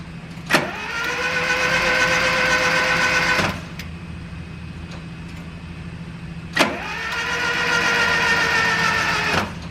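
A 1984 VW Vanagon engine cranks over twice on a weak-sounding battery. Each burst is a whirring starter whine lasting about three seconds, close and loud, with a quiet gap between the two attempts.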